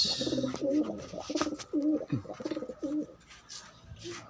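Pigeons at a breeder's loft coo in a series of close, loud, rolling calls, one after another with brief gaps, and a soft trailing coo near the end.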